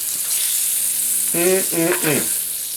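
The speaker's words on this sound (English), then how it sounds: "we're going to let it cook about 30 minutes. Just simmer along." Squirrel simmering in an old skillet on a burner gives a steady, soft broadband sizzle throughout, with a short burst of tonal sound partway through sitting over the bubbling.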